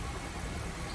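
A refreshed 2004 BMW E53 engine runs steadily just after restart, a close, continuous mid-pitched drone with a rough, slightly knocking texture and no talk.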